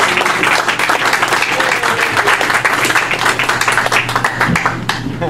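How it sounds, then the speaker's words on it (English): A convention panel audience applauds loudly and steadily, a dense crowd of hands clapping close and continuous throughout. "Everyone, a round of applause for this lady."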